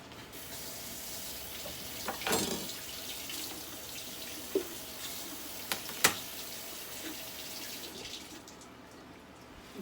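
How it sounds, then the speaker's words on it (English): Food rinsed under a running kitchen tap during barbecue prep, a steady close water stream into a sink with a few brief knocks and clatters partway through, no talking. "I scrupulously wash my food like a raccoon."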